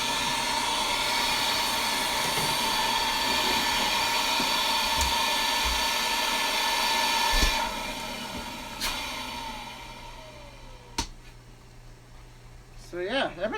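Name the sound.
Beam central vacuum running with a brand new motor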